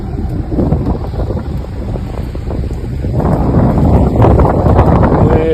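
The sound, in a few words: wind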